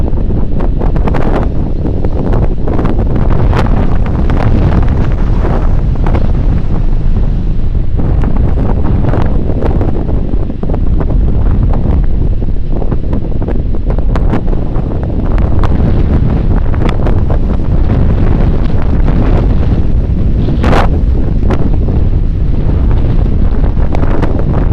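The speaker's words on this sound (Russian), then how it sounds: "Сильный ветер и холодно." Strong, cold winter wind roars continuously and loudly as it buffets the microphone, surging in gusts, with no one talking.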